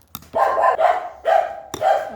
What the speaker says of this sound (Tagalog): Oh, grabe ang ingay ng aso namin.